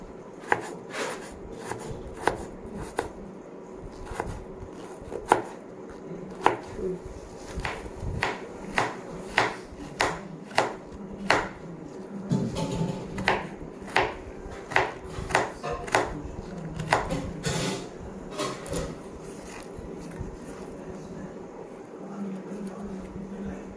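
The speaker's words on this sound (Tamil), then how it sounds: "பனானா ஸ்டெம்மை ஸ்லைஸாக கட் பண்ணிவிட்டு அதுக்கப்புறம் பொடி பொடி அதே மாதிரி நறுக்கி வச்சுக்கணும்" Repeated knife chops on a cutting board as a banana stem is sliced for South Indian banana stem poriyal, steady thuds at a moderate pace, close and fairly clear.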